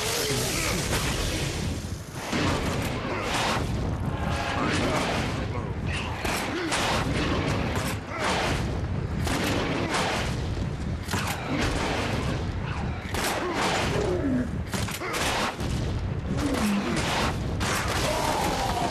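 Gunshots and blade strikes from the cartoonish action video game Torchlight, a dense run of sharp booms, bangs and metallic impacts repeating throughout, loud and close.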